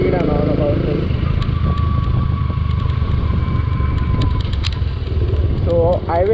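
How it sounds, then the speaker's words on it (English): Modified Suzuki Gixxer SF motorcycle with an aftermarket exhaust, a loud, steady low engine rumble running throughout at close range, with a voice heard briefly at the start and again near the end. "The exhaust sounds really good."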